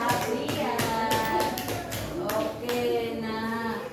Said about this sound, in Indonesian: Tepuk tangan untuk Mbak Nada dan Mbak Sabria.